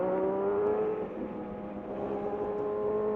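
A car passes on a mountain road, its steady engine drone blending with a nearby motorcycle's hum throughout, fairly loud and continuous with no talk.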